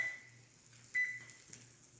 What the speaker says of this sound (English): I'm gonna set our timer for 2 minutes